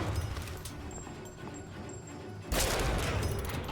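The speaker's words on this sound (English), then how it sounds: "Dual pistols are fun." Dual pistols firing in BioShock Infinite, with a busy layer of shots and game noise that jumps to a louder, denser burst of gunfire in the last second or so.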